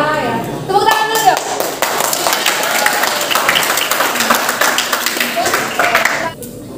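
High school students in a large classroom guidance session clap their hands in a lively, sustained round. Sharp individual claps stand out over the dense clatter, a voice is heard briefly at the start, and the clapping fades out near the end.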